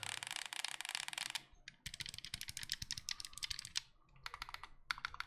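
Rapid, crisp clicking of face buttons on a Flydigi Vader 3 Pro game controller, close and quiet, in dense bursts separated by brief pauses.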